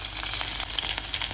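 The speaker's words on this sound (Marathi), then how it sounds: "आता आपण फोडणीची तयारी करतोय" Oil sizzles steadily in a pan as a tadka for dal is prepared, a dense continuous hiss with slight crackle, close and loud, with no talking.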